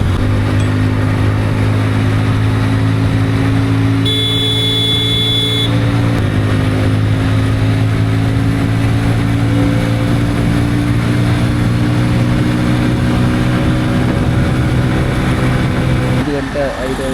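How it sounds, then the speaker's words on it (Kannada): A motorcycle ridden on a road through Karnataka toward Male Mahadeshwara Hills, its steady engine drone and road noise continuous and close throughout, with a short higher-pitched tone and a brief rattle near the end. "ಅದು ಬೈಕ್ ರೈಡು."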